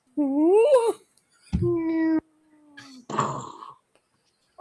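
A man imitates a sad, mewing cat with his voice in several wavering, whiny cries, then a broken sputtering burst, close and fairly loud.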